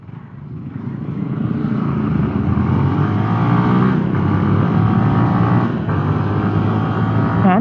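A CFlite 250NK motorcycle rides along at steady speed, its engine droning with a continuous, close and loud hum and rushing wind, the pitch shifting slightly as the throttle changes.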